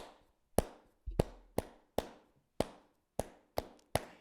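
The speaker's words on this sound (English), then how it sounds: "you do this little repeated motor rhythm with clapping" Eight sharp hand claps ring out in a steady repeating rhythm, close and crisp, each one decaying quickly before the next.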